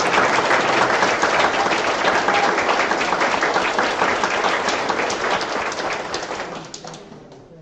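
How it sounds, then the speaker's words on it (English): Audience clapping for practical nursing graduates at a 2023 graduation ceremony, a loud, sustained round of applause from a large crowd that gradually thins and fades out. "Please join me in giving them a round of applause."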